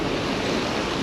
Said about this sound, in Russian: Ну и ветерок сильный достаточно.